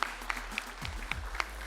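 An audience on an Indonesian TV talent show applauds a performer, a thin, faint patter of scattered claps with a few sharper individual hits over low background hum.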